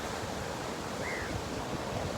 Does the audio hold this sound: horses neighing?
no